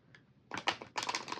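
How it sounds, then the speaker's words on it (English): A deck of tarot cards is shuffled close up, with a soft riffle followed by two bursts of dense, rapid flicking and clattering of the cards. "Now I just go ahead and shuffle on camera."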